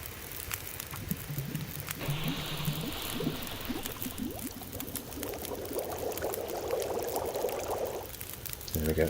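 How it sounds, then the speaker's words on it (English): Water heats over a fire in The Long Dark, with bubbling and pouring liquid sounds and a soft crackle rising over several seconds, fairly faint, while someone talks in between. "Boil up some water."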